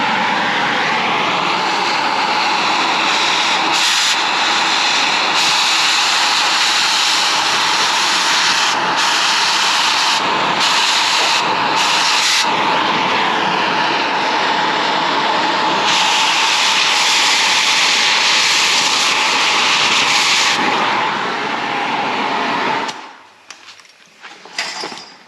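Oxy-acetylene cutting torch heating and cutting a nut off bolt threads, a loud continuous roaring hiss that holds steady for about twenty seconds before it cuts off, leaving faint clanks.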